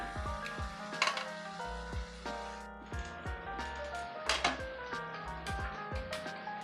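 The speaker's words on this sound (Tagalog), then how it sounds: "crispy fry natin siya" Crablets deep frying in hot oil give a steady crackling sizzle, with metal utensils clinking and scraping against the pan in sharp bursts on top.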